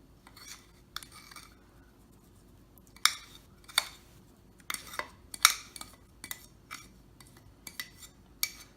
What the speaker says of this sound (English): next you're going to mix the butter and sugar mixture into your mashed bananas